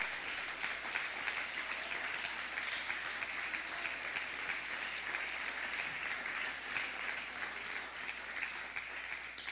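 A church congregation at a Spanish-language communion service claps steadily and continuously for several seconds, a dense, even wash of applause heard from a moderate distance with no speech over it.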